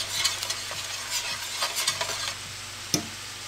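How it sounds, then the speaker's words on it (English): Shrimp scampi simmering in a pan with parsley, stirred with a utensil, gives soft bubbling and sizzling under repeated scraping strokes, with one sharper clink near the end. "We're going to throw some parsley in there. Give that a little stir."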